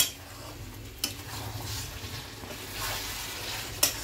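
Meat being stirred and fried in a pan for kosha, a low steady sizzle with soft scraping and two sharp metallic clinks of a spoon against the pan.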